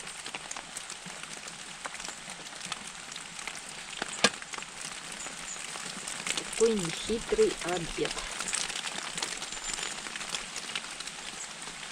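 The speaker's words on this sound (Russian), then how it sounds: "Иногда выскакиваю под дождь." Steady winter rain pattering outside a green forest cabin, a soft continuous hiss of drops beneath someone speaking nearby.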